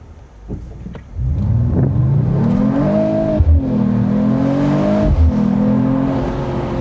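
A 2025 Mercedes-AMG CLE 53 Cabriolet pulls hard under acceleration, its engine note climbing steadily through the gears with brief dips at the shifts, loud and close with no talking.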